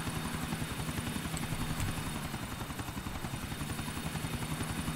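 A helicopter in the video game GTA4, its rotor chop beating in a fast steady rhythm with an even engine drone, continuous and fairly close, no voices over it.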